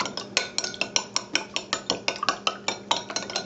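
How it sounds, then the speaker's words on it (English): A spoon whisking pumpkin muffin batter in a bowl, giving quick, steady metallic clinks about four per second against the side, close and clear with no talking. "I think this is called whisking."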